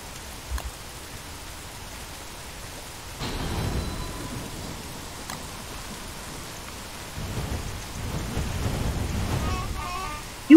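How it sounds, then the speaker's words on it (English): Steady in-game rain with rolling thunder in the Don't Starve: Hamlet video game, a continuous wash of downpour that swells louder midway with low rumbles, no voices present. "let's hope that the rain stops very soon"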